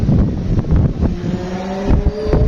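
Strong gusts of wind buffet the microphone outdoors in Feni as dark clouds gather before rain, a steady loud roar with rumbling low-end bursts throughout.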